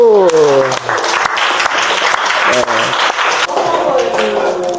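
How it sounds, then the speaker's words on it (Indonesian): A class claps for a student named Maya, with a voice speaking briefly at the start and again midway while steady, fairly loud applause continues underneath for several seconds. "tepuk tangan buat Maya dulu"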